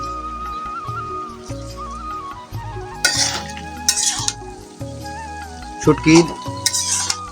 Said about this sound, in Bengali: তরকারিটি কিছুক্ষণ পর পর নেড়ে চেড়ে দিচ্ছি, আস্তে আস্তে সিদ্ধ হোক।